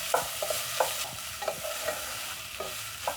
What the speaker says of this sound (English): Then I'm going to use my spatula and stir in my onion